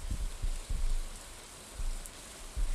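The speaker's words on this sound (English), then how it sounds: "Oh no, is it raining? It is." Rain falling in the farming video game Stardew Valley, a steady dense hiss of rainfall with low rumbling swells, continuous and fairly loud with no speech over it.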